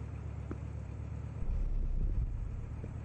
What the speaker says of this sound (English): Another one. Another car.